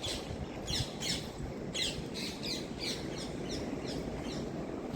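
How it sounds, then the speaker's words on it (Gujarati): Birds call repeatedly near a lighthouse by a harbour, short squawking chirps recurring every half second or so over a steady broadband background hiss, moderately near and fairly even in level. "એવો મીઠો પક્ષીનો અહીંયા સ્વર પણ તમે સાંભળી શકો છો"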